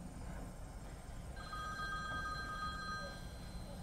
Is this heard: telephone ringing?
yes